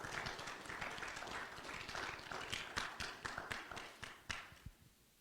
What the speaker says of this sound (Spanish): Denle un aplauso al pastor.